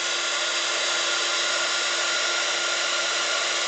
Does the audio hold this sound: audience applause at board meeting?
no